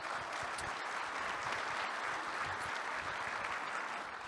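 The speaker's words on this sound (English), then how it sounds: "So give them another round of applause." A conference audience at the ShmooCon 2025 closing remarks gives steady, dense applause that holds at an even level for several seconds, with no break and only faint crowd murmur.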